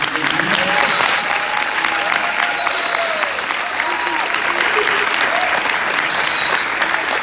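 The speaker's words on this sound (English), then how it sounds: "please give another round of applause for our guest today" Audience applause for a guest at a jazz orchestra concert, a steady dense clapping wash lasting several seconds with bright whistles cutting through at times.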